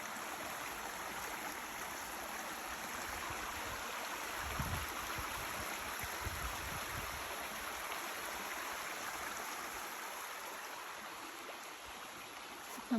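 Water rushes steadily along a stream near a lake, forming a continuous, even, hissing flow that stays close and unchanging throughout.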